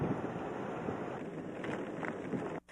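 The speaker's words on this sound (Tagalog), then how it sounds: "Ang mga puno tila sumasayaw sa lakas ng hangin." Strong typhoon wind from Typhoon Nesat (Pedring) roars steadily and loud, buffeting the microphone, with rough gusting texture and a brief dip near the end.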